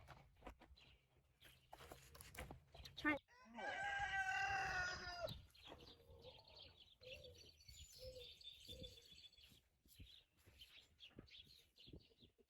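A rooster crows loudly in one long call while chickens cluck and chatter intermittently around it, close by in a garden, with no talking.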